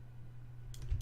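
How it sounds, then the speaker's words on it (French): A computer mouse double-clicks on an object in a Unity 5 editor, with several faint quick clicks close together near the end over a low steady hum. "double-clic sur mon objet pour pouvoir aller directement à sa position"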